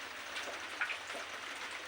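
Monsoon rain falls in a soft, steady hiss, heard faintly and alone for a couple of seconds with no voices.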